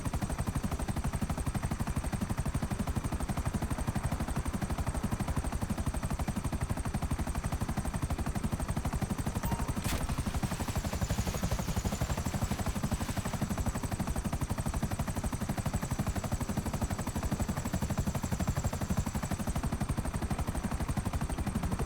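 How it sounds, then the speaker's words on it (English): Steady, loud rotor-like drone with a constant whine on top from an unarmed Buzzard helicopter in a video game, continuing unbroken without talk. "This helicopter doesn't have any guns, it's a buzzard."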